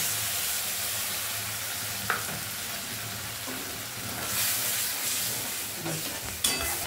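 Paste of ginger, garlic, onion, green chili and tomato frying in tempering oil in a pan, with a steady close sizzle and hiss throughout and a few brief clinks or stirring taps.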